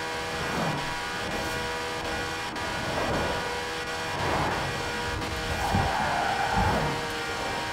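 Sustained car engine drone at steady high revs in a driving video game played on a steering wheel, cruising in top gear with a constant loud hum and faint pitch swells throughout.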